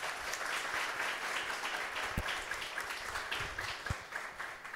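Church congregation applauding during a sermon, a dense, even roar of clapping from many people heard at moderate distance, steady throughout with a few sharper thumps.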